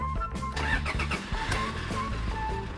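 A 2012 Toyota Fortuner VNT Turbo G diesel cranks and catches, settling into a steady, loud idle with low engine rumble heard from inside the cabin.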